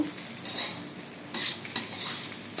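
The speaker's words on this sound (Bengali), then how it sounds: "দিয়ে একটু নাড়াচাড়া করে নেব" A spoon stirs coriander, cumin and turmeric powder in a pan, making soft scraping strokes in short bursts over a low, steady sizzle. The stirring sounds close and there is no talk.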